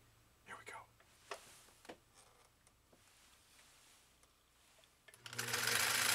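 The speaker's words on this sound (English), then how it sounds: "That's what sewing is. Just sewing away over here, effortlessly." A Husqvarna Viking CL21A sewing machine sewing leather starts with a few soft taps and quiet movement, then bursts into a loud, close, steady mechanical whir near the end, with a faint murmuring voice early on.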